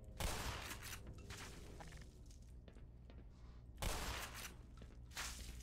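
Shotgun blasts in the first-person shooter Black Mesa, two loud broadband bursts roughly four seconds apart, each ringing into a decaying tail, with scattered clicks and game noise between them and no talk.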